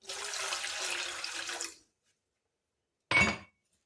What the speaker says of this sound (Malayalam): നമ്മൾ ഈ വെള്ളം രണ്ട് ഗ്ലാസ് വെള്ളം